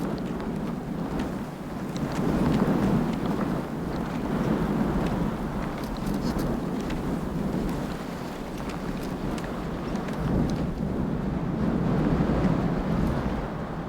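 Icy Föhn wind howling over the Alpine main ridge near the Hoher Sonnblick on a ski tour, a steady, loud roar with gusts that rise and fall throughout.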